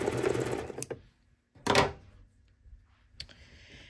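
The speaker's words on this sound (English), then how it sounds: "now I'm just going to sew off that strip." A sewing machine stitches a strip of rayon fabric in short bursts, a close whirring run followed by a pause, another brief burst and a faint final stitch, with quiet gaps between.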